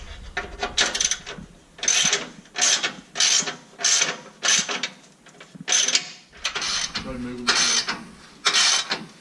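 A ratchet tightens bolts on RCI rock sliders being installed on a 2016-or-later Toyota Tacoma, giving about nine bursts of rapid clicking in an even rhythm, close and fairly loud.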